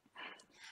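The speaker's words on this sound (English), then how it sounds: "as you can hear my dogs in the background" Dogs bark and yip briefly in the background of a home, a short, fairly faint burst with no talk over it.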